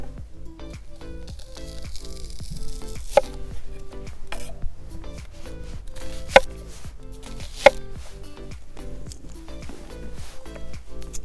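A knife chops onion into thick rings on a board, regular crisp taps close by at a steady pace, with a few sharper knocks among them.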